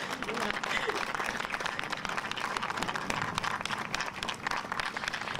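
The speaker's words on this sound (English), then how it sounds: "So I want to ask everyone to please applaud Nana." Dense crowd applause at an outdoor rally for Vanessa Guillen in Washington, DC, sustained and fairly distant throughout, with scattered cheers mixed in.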